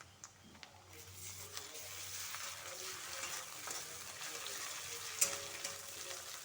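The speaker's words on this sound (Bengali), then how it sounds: "আদা রসুনটা ভালো করে একটু কষিয়ে নেবো যাতে কাঁচা গন্ধ না বেরোয়।" Ginger-garlic paste stir-frying with browned onions in a pan for a fish-egg curry, a steady soft sizzle with occasional stirring scrapes and a sharp clink near the end, no talking.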